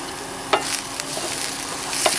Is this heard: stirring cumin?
yes